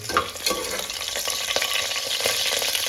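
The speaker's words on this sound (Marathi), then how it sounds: "जिरा टाकलेला आहे आणि त्याच्यावर टाकलेल्या आहे त्या म्हणजे लसूणच्या पाकळ्या सुंदर असा हलवून घ्यायचा आहे" Garlic cloves and cumin seeds frying in hot oil in a pan, a steady close sizzle with scraping stir strokes running throughout, no voices.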